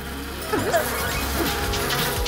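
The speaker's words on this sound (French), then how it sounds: "mes guêpes vont vous paralyser" Cartoon wasps buzz in the animated Miraculous Ladybug series, a droning swarm hum with swooping whooshes under a music bed.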